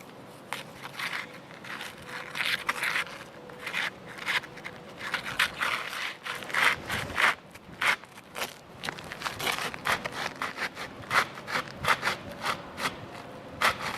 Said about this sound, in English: Take your knife, cut it,